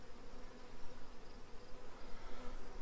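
Honeybees buzz in a dense, continuous drone close around a beekeeper working an open hive, with no voices.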